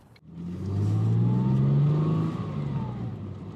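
A Ford Mondeo ST220 engine, recently fixed and now running properly, revs up from idle into a strong, rising drone, holds near the top, then eases back down, loud and close with no talk.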